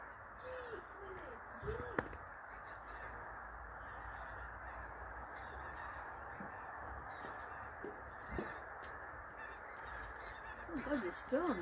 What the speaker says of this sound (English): Geese! Geese!